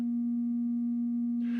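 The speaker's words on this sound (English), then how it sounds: "All right, let me leave it to sine wave" A steady, pure sine tone from a Behringer Neutron semi-modular analog synthesizer holds at one pitch, clean and even, before a brief burst of hiss at the end.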